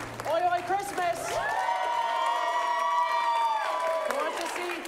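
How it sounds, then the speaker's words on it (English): Audience at a holiday improv comedy show applauding and cheering loudly and steadily, a sustained wash of clapping and shouts lasting several seconds, with a brief voice at the start. "get a round of clap going on for everyone who wants to see Oi Oi Christmas"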